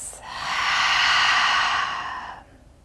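A deep, drawn-out breath in a quiet yoga nidra relaxation session, a long airy rush of air that swells loud and steady for about two seconds and then fades, heard alone with no talking.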